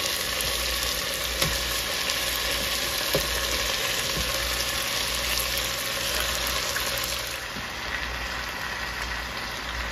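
Mutton goes into a pan of sautéed tomatoes, setting off a steady loud sizzle of frying with a constant background hum and occasional small clinks from stirring.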